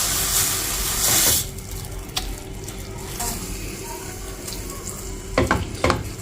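Coconut being roasted with milk in a pan is stirred with a spoon, a steady low sizzle under a few sharp scraping clicks near the end, close and moderately loud with no talk.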